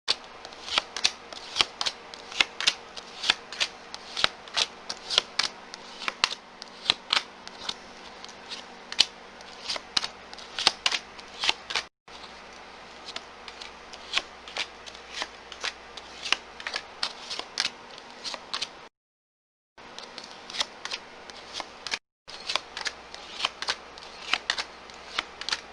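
Tarot cards are shuffled and laid down in a continuous crisp flutter of rapid riffles and snaps, close and distinct, broken by a couple of brief silent pauses.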